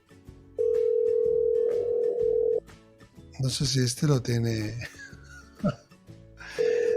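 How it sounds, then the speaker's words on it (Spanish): A telephone dial tone followed by dialing while a live call is placed, a steady tone sounding twice with someone talking and clearing his throat between them. "Estamos llamándole en directo."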